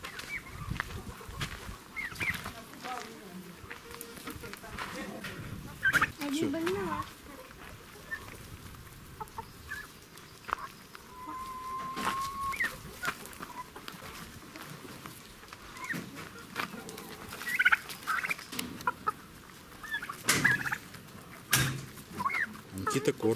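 Turkeys are fed in a village yard, giving scattered, faint bird calls amid rustling, clattering and background voices.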